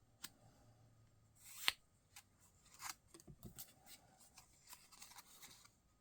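Scissors trimming small pieces of paper cardstock in a quiet room, giving a series of short, crisp snips at uneven intervals, close and fairly soft.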